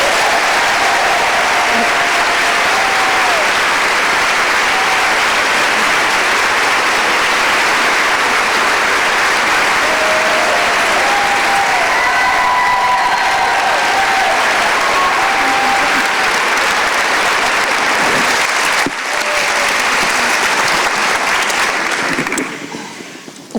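A Kansas City audience applauds to welcome Dr. Mary Claire Haver and Alexis Del Cid. Loud, dense clapping with a few cheers and whistles lasts about twenty seconds before fading near the end.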